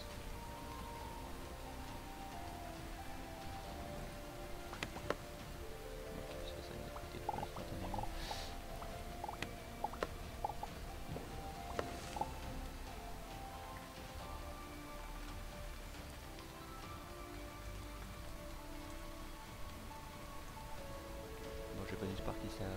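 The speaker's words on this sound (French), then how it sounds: "j'ai pas d'espoir que ça arrête de pleuvoir quand même assez rapidement" Rain falling in the video game Starbound, a faint steady patter with scattered small drop ticks running throughout at low level.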